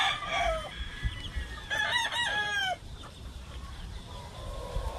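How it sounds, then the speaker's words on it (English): A Black McRae Brass Back Albany rooster on a farm in Hawaii crows once, close and loud, with a long rising-then-falling call that cuts out sharply, over steady outdoor background noise. "But I really like this rooster here."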